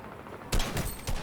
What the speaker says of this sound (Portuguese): olha só os tiros que eu vou dar aqui agora